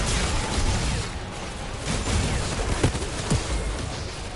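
Pistol gunfire in the game Outriders, rapid crackling shots fired in a busy stream with a few sharper distinct pops standing out, fairly loud against a dense background of game effects.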